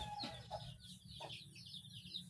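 Chickens cluck in a short, quiet burst of separate calls over steady low background noise, with no talk heard.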